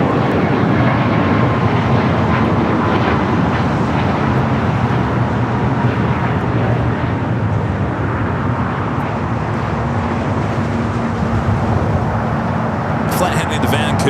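Broadband roar of a Boeing 737 MAX 8 jet at LAX airport, steady and loud across the whole stretch, blending with a constant airport rumble and faint radio-like chatter.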